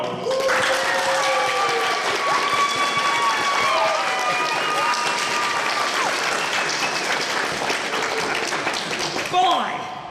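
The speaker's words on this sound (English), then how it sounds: "let me know by a round of applause" A theatre crowd in a comic Robin Hood stage show breaks into loud, sustained applause mixed with cheers and whoops, a dense wash of clapping that holds steady for several seconds with voices rising through it.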